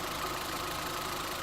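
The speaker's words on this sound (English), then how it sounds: "It's not been run for about 3 months, and it's sitting here idling" A new engine in a forklift truck idles steadily after three months unused, a close, even, low mechanical hum with a faint regular pulse and no talking.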